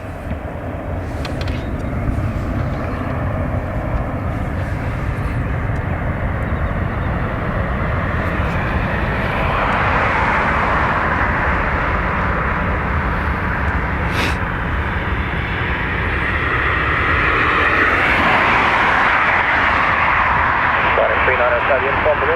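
A jet airliner powering up for takeoff on runway 28 right at Dublin Airport, a loud steady engine roar building over twenty seconds, with radio voices and talk throughout.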